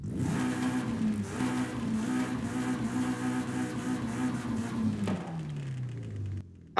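A car with a 2.1 litre inline-four in Forza Horizon 5 revs with a steady buzzing drone near the start, then drops in pitch and winds down toward the end. The engine is heard clearly with no talk over it.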